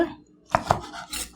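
Squid being chopped with a knife on a cutting board for Korean spicy stir-fried squid: two sharp, close knife strikes, then a softer scrape-like cut, with no talking.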